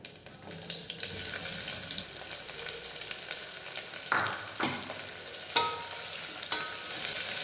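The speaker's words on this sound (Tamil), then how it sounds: "வெங்காயம் நல்லா கோல்டன் ப்ரௌன் ஆகணுங்க, அது வரைக்கும் வதக்கணும்." Chopped medium onion sautéing in a pan with cinnamon, two cloves and three cardamom pods for a mint vegetable pulao: a steady close sizzle with a few sharper stirring scrapes and clinks, with no talking.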